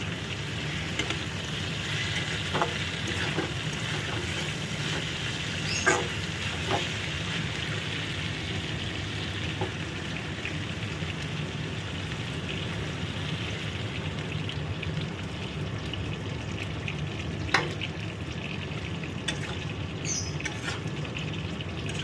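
Ivy gourd frying covered over a low flame, a faint steady sizzle with a few soft pops and light clicks, no voices.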